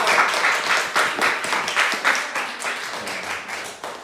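A church congregation applauds during a Sunday service, with distinct rhythmic claps forming a moderate, slightly uneven round of applause at close range that tapers toward the end.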